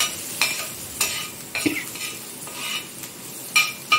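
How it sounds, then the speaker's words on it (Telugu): Garlic lightly roasting in a pan sizzles softly while a utensil stirs and clinks against the pan in several short scrapes and taps. "ఈ వెల్లుల్లి కొద్దిగా లైట్గా రోస్ట్ అవ్వాలి."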